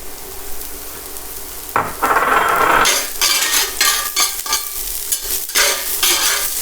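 Shallots hit a very hot pan for a Philly cheesesteak, setting off a sudden loud sizzle that grows into steady crackling, with scraping and clinks of a utensil stirring against the pan; no one speaks.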